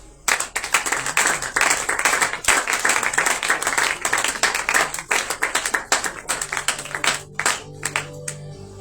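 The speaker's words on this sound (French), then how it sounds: "Vos acclamations, s'il vous plaît." Audience applause at a French-speaking Passover church gathering, a close burst of clapping that thins into scattered individual claps toward the end.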